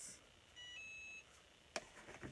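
An electronic beep from a heat set tool for Chalk Couture transfers signals it is ready: a steady tone of about half a second, followed by faint handling clatter.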